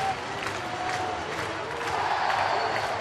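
A sold-out ballpark crowd cheers a Pittsburgh Pirates baseball win, a dense, sustained roar of voices with scattered applause, even and far-spread throughout.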